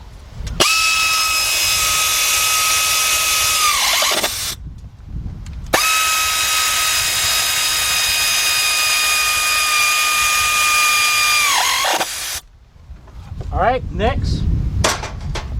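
A power tool tightens bolts on the alternator of a 2007 Jeep Grand Cherokee Laredo 3.7 using a 15 mm socket and 4-inch extension. It makes two long steady high-pitched whines, each winding down at the end, followed by a few short clanks and rattles.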